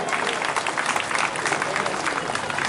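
Audience at an outdoor Bhagwat Katha religious gathering in Durgapura, Nagda, claps together in dense, steady applause that stays loud and even from start to finish.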